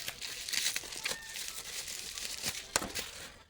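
Plastic wrap being torn and peeled off a DVD case, a continuous close crinkling and crackling with a few sharper rips, and no talking.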